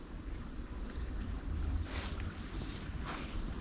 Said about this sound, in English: You can probably hear the waterfall from up here, actually.